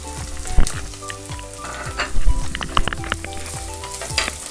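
Garlic and ginger sizzle and fry in a pan for a mixed vegetable thoran, a steady crackle with louder spattering bursts and the occasional scrape of stirring, close up and without talk.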